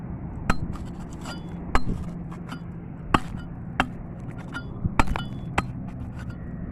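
Hard desert salt crust in Saudi Arabia is dug at outdoors, a series of sharp, separate cracking strikes at an uneven pace over a low wind-like rumble, close and fairly loud.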